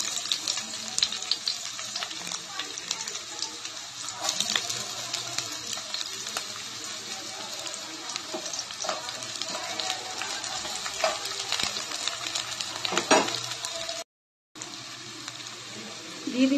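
Chopped onion hitting hot oil in a pan for tarka, giving a steady, fairly loud broadband sizzle that holds throughout with a brief dropout near the end.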